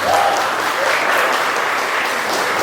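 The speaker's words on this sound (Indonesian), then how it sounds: "berikan tepuk tangan untuk kita semuanya" Audience at an anti-bullying session applauds as a dense, steady wash of many hands clapping at even loudness throughout.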